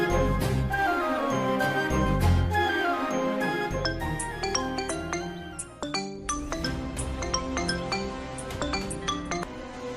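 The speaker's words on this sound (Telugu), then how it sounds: "కళ్యాణి, శ్రీవల్లి, రోహిత్ ఫోన్ రింగ్ అవుతుంది." A mobile phone rings with a bright, tinkling chime melody of repeated clear notes, moderately loud and continuous, with no speech over it.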